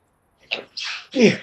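A single quick sneeze, close and fairly loud, with a sharp intake and explosive burst at the end.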